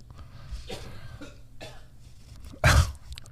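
One sharp, loud cough straight into a close microphone, a sudden harsh burst near the end that stands well above the low background murmur.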